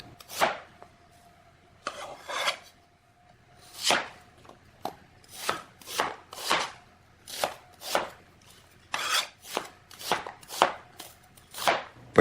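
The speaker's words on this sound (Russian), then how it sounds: "Нарезаем крупными сегментами." A knife cuts sweet onions into large segments on a board, about fifteen crisp, separate chops at an uneven but steady pace, close and clear with nothing else heard.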